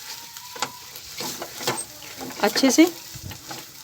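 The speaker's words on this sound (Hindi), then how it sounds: "अब इसको भी इसके साथ भूनूंगी पहले" Mawa (milk solids), about 100 grams, roasting with ginger in a pan for ginger halwa: a soft sizzle with stirring scrapes that grow busier near the end, while someone talks briefly.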